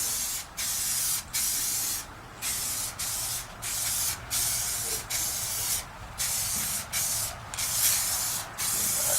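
An aerosol can of SEM bumper paint sprays Mustang headlight buckets in a steady loud hiss, cut by short gaps into about a dozen repeated passes of a second or so each, close by with no speech.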